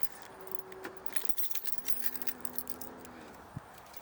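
A bunch of keys jangles and clinks in several quick bursts near a Ford car, the bright metallic rattles fairly close and set against a quiet outdoor background.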